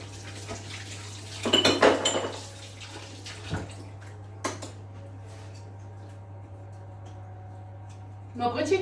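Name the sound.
washing a utensil under the tap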